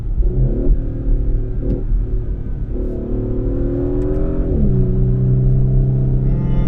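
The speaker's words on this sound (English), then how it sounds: "So shifts are, bit of pops there." An Audi SQ5 with a twin-turbo V6 and ZF eight-speed automatic drives under load, its engine droning loudly and rising in pitch, with brief dips and small crackling pops as gears shift, heard close from inside the cabin.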